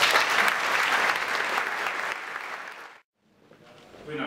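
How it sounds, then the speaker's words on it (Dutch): A large crowd at a party election campaign launch applauds loudly for the party chairman. The clapping fades and cuts to near silence around three seconds, then softer sound returns. "graag uw applaus voor onze CD&D-voorzitter Hans Eil"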